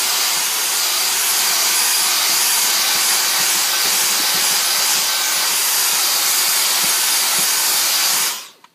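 Dyson DC35 Animal cordless vacuum on max suction inside a car gives a loud, steady, airy whine that runs unbroken for several seconds, then cuts off abruptly at the end.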